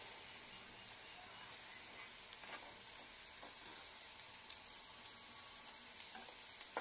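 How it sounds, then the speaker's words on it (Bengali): Mint and onion pakoras fry in hot oil, giving a faint, steady sizzle with a few soft pops and ticks scattered through it. "দেখুন কত সুন্দর হচ্ছে, ফুটছে কত সুন্দর"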